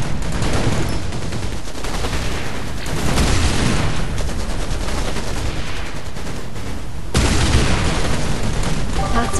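Dense gunfire rattles against a vehicle in Anno 2070, continuous bursts and booming impacts, loud and close, surging again near the end.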